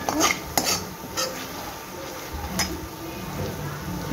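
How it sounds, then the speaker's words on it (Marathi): Turmeric and Kashmiri red chili powder being stirred into a shahi paneer gravy in a pan, giving soft scraping spoon strokes and a few sharp clinks of utensil against the pot, with a faint sizzle underneath. "सगळं व्यवस्थित मिक्स करून घ्यायचं"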